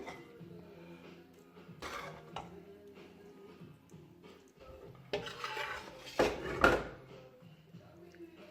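A utensil spreading minced meat sauce over a layer of mashed potato in a baking dish, with intermittent scraping, clinks and soft knocks against the dish, close by, with quiet sounds of handling between them.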